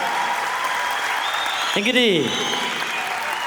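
An audience at an award ceremony applauds warmly and steadily. Someone speaks briefly over the clapping partway through.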